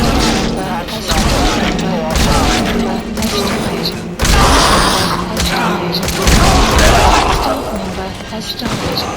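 Rapid bursts of gunfire and heavy thumps in the video game Metal Gear Solid V: The Phantom Pain, loud and continuous, with voices shouting over the shooting.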